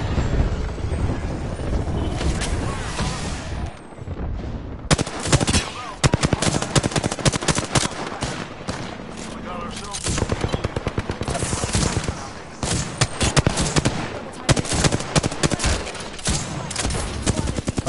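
Rapid automatic gunfire in a video game rattles in long, dense bursts, close and loud, after a rougher windy stretch at the start, with brief pauses between volleys.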